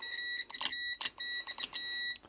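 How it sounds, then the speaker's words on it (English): Multimeter set to continuity beeping while testing distributor points on a Jaguar Mark 2 as they open and close, giving a series of short high electronic beeps in an irregular on-off rhythm mixed with clicks, close and alone. "I have the multimeter set to continuity. It will beep."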